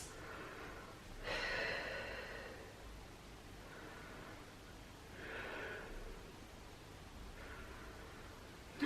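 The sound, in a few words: deep breathing in child's pose after workout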